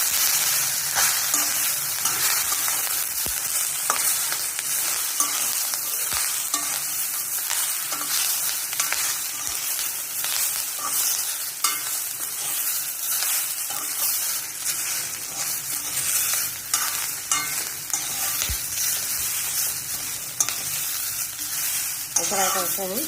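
Moringa (drumstick) leaves roast in an iron kadhai on a gas stove, a constant dry sizzle and crackle with repeated scraping strokes of a spatula stirring, close and steady throughout with no talking.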